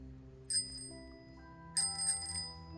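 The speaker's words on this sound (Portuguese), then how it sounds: "a campainha da bicicleta continuou tocando" Bicycle bell ringing twice in quick bursts, bright metallic dings close by over a quiet sustained tonal background, with no voices.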